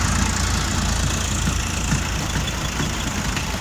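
A soil loader machine's engine runs steadily and loud, a continuous low mechanical drone with a faint knocking texture and no voices.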